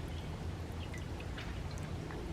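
Water from four pumps in a pond fountain splashes and trickles steadily and close, a continuous wash of running water with scattered drips and no talk.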